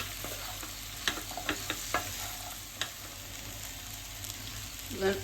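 Cut okra (ladies finger) is stirred through hot oil in a pan, a steady frying sizzle punctuated by several sharp spoon scrapes and knocks, with a louder clatter near the end.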